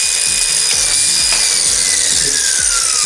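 Milwaukee 4.5 inch angle grinder running steadily at close range, a loud continuous high whine with a slowly shifting pitch, heard alone.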